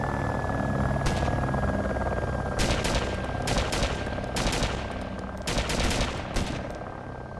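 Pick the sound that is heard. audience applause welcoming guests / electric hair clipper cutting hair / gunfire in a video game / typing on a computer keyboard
gunfire in a video game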